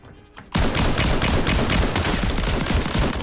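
Rapid sustained gunfire bursts erupt after a brief quiet moment in the video game Warzone, loud and continuous, with dense automatic-weapon fire and thuds filling the rest.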